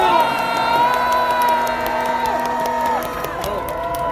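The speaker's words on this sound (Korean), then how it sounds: "친구에게 박수 한번 더 주십시오" A large street rally crowd cheers and shouts on a march, with loud overlapping voices and whoops that stay strong throughout and ease slightly near the end.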